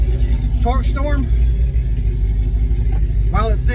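A deep, steady engine rumble from a truck with a TorqStorm TS84R supercharger on a stock-block engine idles loudly and continuously, with a voice speaking briefly over it.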